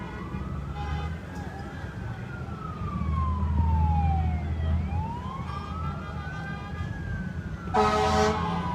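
Wailing emergency sirens from an ambulance pulling into a gas station lot during a street protest outside a bank: a long rising-and-falling sweep close by, under crowd and traffic rumble, with a sharp burst of noise near the end.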